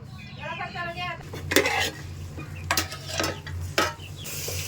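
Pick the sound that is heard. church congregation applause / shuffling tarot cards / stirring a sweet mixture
stirring a sweet mixture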